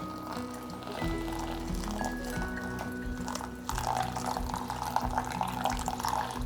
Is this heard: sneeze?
no